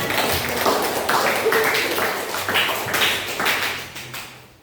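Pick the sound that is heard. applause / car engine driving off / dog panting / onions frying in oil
applause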